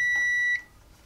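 A single sustained electronic multimeter continuity beep, steady and clear for about half a second, then cuts off into quiet room noise.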